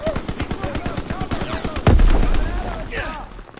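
Rapid bursts of gunfire crackle in quick succession in the Call of Duty: WWII video game, followed by a heavy blast, with shouting voices mixed in.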